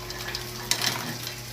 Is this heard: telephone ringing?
no